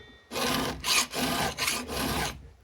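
A hand file sharpens a chainsaw chain in four loud, close rasping strokes, each about half a second long, separated by short gaps.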